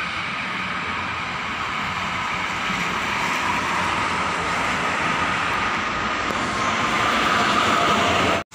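A train rushes past at close range with a loud, continuous broadband roar and rumble that stays steady and then builds slightly toward the end before cutting off abruptly.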